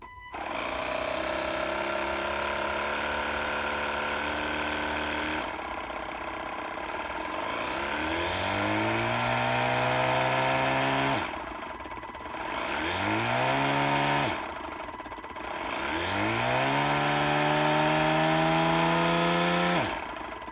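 Portable tire inflator compressor pumping up a car tire from 34.5 to 35.5 PSI: a loud, steady motorized whine that runs continuously, dropping out briefly twice and restarting with a pitch that sweeps upward before settling.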